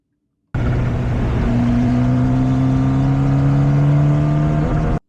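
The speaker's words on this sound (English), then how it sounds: "One downshift, and then you turn in." Onboard a race car lapping the Misano circuit in Italy, the engine drones loud and close with steady rising tones as it downshifts and turns into a corner, with no talk over it.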